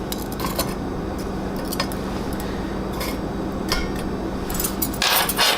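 Hookah coals turned over and rotated on a stovetop produce scattered metallic clinks and scrapes above a steady burner hiss, with a louder clatter near the end and no voices.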